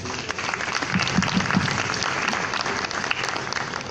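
Strong applause from an audience welcoming archaeologist Dr. Rodrigo Montoya Rojas at a lecture on interculturality in Peru: dense, loud clapping sustained throughout, with faint voices mixed in at the start.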